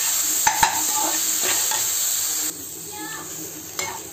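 Tempering spices frying in hot oil in a pan, with a steady close sizzle throughout and several short scraping stirs of a spoon against the pan, the sizzle dropping quieter partway through.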